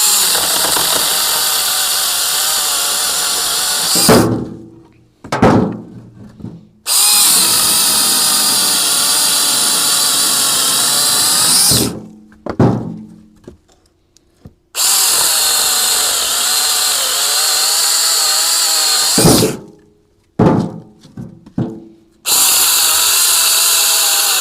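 A small battery-powered mini chainsaw buzzes loudly in several long runs cutting branches, each ending in a pause with clunks and rustling between cuts.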